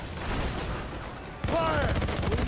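Ship cannons in the naval video game Assassin's Creed Rogue fire in a dense, rumbling barrage of booms with heavy low rumble, while a voice shouts over the battle.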